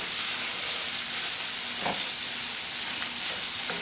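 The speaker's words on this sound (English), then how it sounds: "We're going to stir all this together." Bacon apple stuffing stirred in a hot pan gives a steady close frying sizzle and hiss throughout, with a few brief scraping stirs and no talking.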